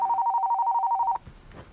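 A telephone rings with a rapid, warbling electronic trill, loud and close, for about a second before it cuts off into a quiet room.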